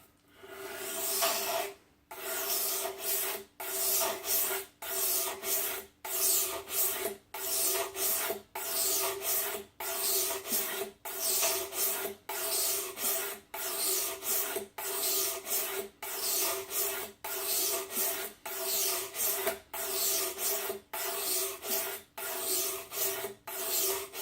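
A knife blade is drawn across a sharpening stone in long, evenly spaced rasping strokes, about twenty in a row with brief gaps between, close and clear with no talking.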